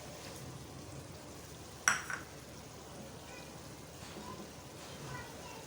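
Garlic ginger paste sizzling in a hot pan while making a methi aloo vegetable dish, a steady soft frying hiss with a brief louder splatter as it goes in, fairly quiet throughout.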